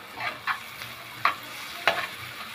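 Onion frying in a pan for tuna in tomato sauce, a soft steady sizzle broken by several brief scraping stirs, close and moderately quiet.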